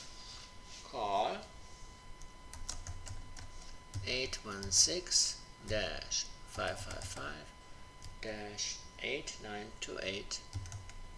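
Typing on a computer keyboard while entering text into a PowerPoint slide: bursts of quick key clicks come in short clusters, close and crisp, with a person talking over them.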